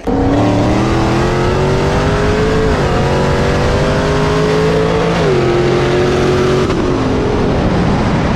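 A Dodge Hellcat and a Tesla Plaid race on a freeway. A loud, close engine roars hard under acceleration, its pitch climbing and then dropping back at several gear shifts over a few seconds, with no talking.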